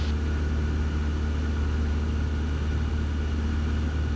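A Cessna 172 piston engine runs in flight at about 2300 RPM, a constant loud drone heard from inside the cabin, steady and unbroken with no talking.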